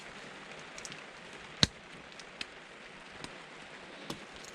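Rain falls outside, heard as a faint, steady patter with scattered sharper drips and one louder tap. No voices are present.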